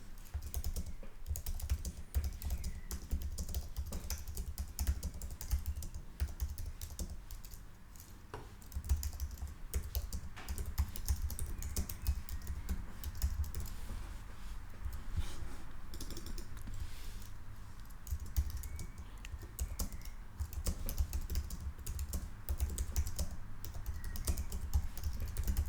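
Typing on a computer keyboard while entering text in a design tool, a steady stream of soft, quick key clicks continuing throughout over a low background hum.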